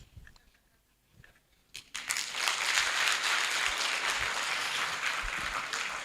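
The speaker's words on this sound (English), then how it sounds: "let's have those hand claps very loud and clear" An audience at the Uganda National Agricultural Extension Week 2024 opening day breaks into loud, dense hand clapping after a few quiet seconds with scattered noise, and the clapping holds steady and full to the end.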